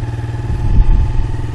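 A motorcycle engine revs loudly up close, its rough pulsing note rising to a peak midway and then holding, during a lesson on learning to ride.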